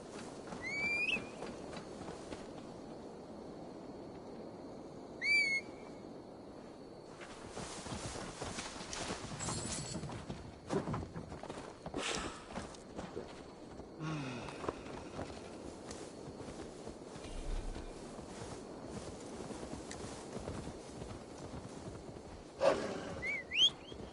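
Horse hooves clop at a walking pace in Assassin's Creed Valhalla, quiet and intermittent, mixed with faint game ambience and a few sharper sounds.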